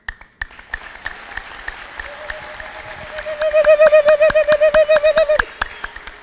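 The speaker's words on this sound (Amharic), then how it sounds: "ለጌታ ክብር ከፍ ያለ እልልታ" A church congregation breaks into applause and a loud, sustained high-pitched ululation, the trilling cries swelling over rhythmic clapping for a few seconds before stopping abruptly.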